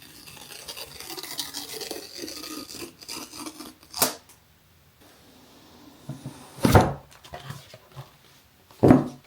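Unboxing a new MacBook: close scraping and rubbing of packaging, with sudden louder tearing bursts and quiet pauses between them, no voices.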